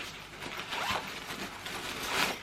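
Zipper on the inside pocket of a backpack lid, a Mountain Warehouse Carry On 65 litre pack, pulled in a few quick close scraping strokes.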